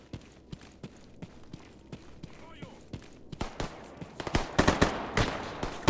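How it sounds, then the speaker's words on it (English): Gunfire in a S.T.A.L.K.E.R. mod, starting as a steady series of distant single shots and building into louder, closer rapid bursts toward the end, with someone talking over it. "we're getting shot from over there"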